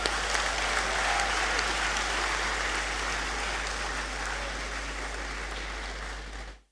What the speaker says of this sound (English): Let's clap for Mr. Ndemele.